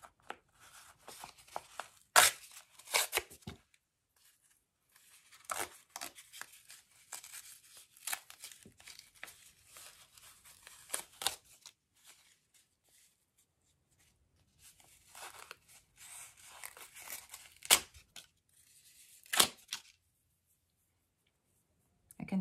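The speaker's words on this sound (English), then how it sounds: "And now I'm going to tear the cards along the perforation in the center" Paper cards are torn along a center perforation in short, quiet ripping bursts separated by silences, close up and with no speech.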